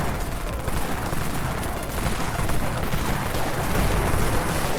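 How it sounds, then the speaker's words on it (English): The Jackrabbit shotgun in the Dead Frontier video game fires in dense, continuous bursts of loud booming blasts that pile up into a thick, unbroken wall of gunfire with no voices. "a new shotgun"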